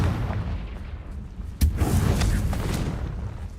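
A Confringo blasting spell goes off in Hogwarts Legacy with a single sharp explosive boom. A rumbling, crackling tail of blast noise and combat sounds follows the hit.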